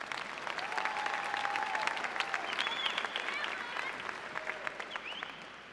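An audience applauds graduating students at a high school graduation ceremony, dense sustained clapping from a large crowd that fades slightly toward the end.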